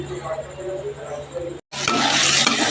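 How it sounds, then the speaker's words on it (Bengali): Chopped vegetables frying in white oil in a kadai with salt and turmeric, first a quieter sizzle with stirring under a voice, then a sharp cut to a louder, dense hiss of frying. "এই দেখো বন্ধুরা যে সবজিগুলো কেটে রেখেছিলাম সেগুলো আমি একটু ভেজে নিচ্ছি নুন হলুদ দিয়ে।"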